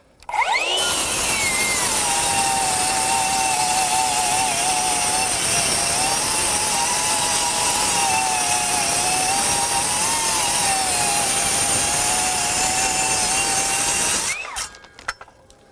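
A Metabo HPT MultiVolt C36 7-1/4" rear-handle cordless circular saw cutting steadily through wood, a loud continuous whine that starts abruptly and stays at a constant pitch under load for about fourteen seconds before stopping cleanly.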